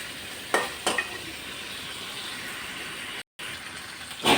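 Koi fish frying and being stirred in a pan, a steady hiss of sizzling oil with a few sharp scraping stirs near the start and end.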